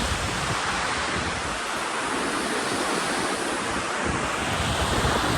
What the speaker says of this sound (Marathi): अजून पण आहे ना 4-5 बोट असं पाणी चालू आहे आपल्या चादरीवरून.